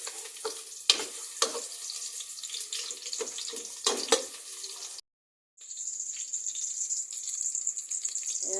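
Onions sizzle as they fry in hot cooking oil, with clattering stir strokes early on. After a short silent break, a steady, close hiss of frying carries on alone.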